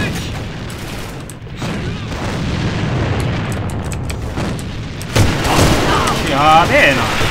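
A grenade thrown in the online shooter AVA goes off with a loud boom during a team deathmatch, followed by a burst of crackling blast noise and gunfire under a continuous game soundscape.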